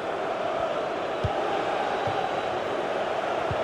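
Stadium crowd in a FIFA 22 football match at a cup final, a dense sustained roar of cheering voices, loud and unbroken for the whole few seconds with a few low thumps underneath.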